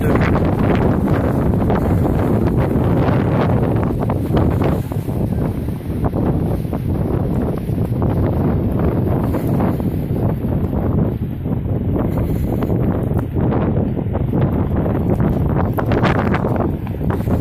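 Strong wind at Jacksonville Beach blows sand across the shore, a loud, constant roar of buffeting gusts battering the microphone without a break.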